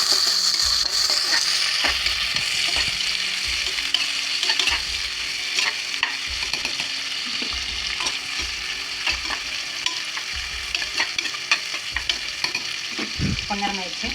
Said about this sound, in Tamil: நல்லா கொஞ்சமாக வணக்கி விட்டுக்கலாம் வெங்காயத்தை.